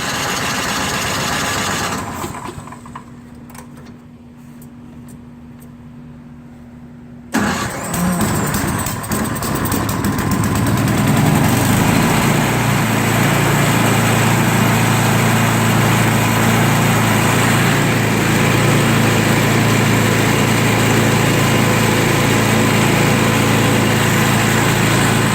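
Craftsman snowblower engine with a newly replaced electric starter cranks, catches, and settles into a loud, steady running drone that holds close and continuous for the rest of the clip, with no voices.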